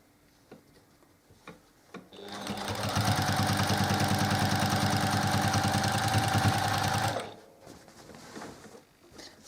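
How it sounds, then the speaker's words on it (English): Sewing machine stitching binding onto a quilt runs for about five seconds in a steady, close, rapid mechanical whir with a fast ticking pulse, ending abruptly, with faint handling noises before and after. "we'll be stitching towards where we started"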